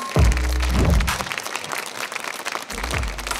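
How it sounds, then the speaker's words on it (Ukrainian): Applause from a studio audience at a televised battle show, a dense broadband clatter of many hands running steadily for a few seconds, with low booming thumps at the start and again near the end. "Мама Ріка, ваші оплески!"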